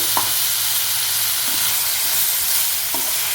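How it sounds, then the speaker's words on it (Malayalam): A ripe, juicy tomato and green chillies fry in a pan, giving a loud, steady sizzle up close, with a few light knocks from stirring. "വലിയൊരു തക്കാളി നല്ല ജ്യൂസുള്ള നല്ല പഴുത്ത തക്കാളിയാണ് കേട്ടോ അതിട്ട് കൊടുക്കാം"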